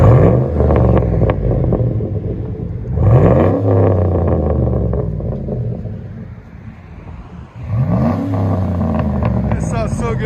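2009 GMC Sierra 5.3L V8 with a Vibrant bottle resonator revs in three loud, rising pulls, each climbing and falling back to a deep rumbling idle, heard up close outdoors with a voice briefly near the end.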